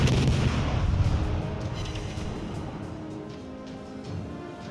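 Warship guns boom in a World of Warships Legends naval battle, with a heavy opening blast whose rumble decays, followed by scattered fainter shots trailing off in the distance.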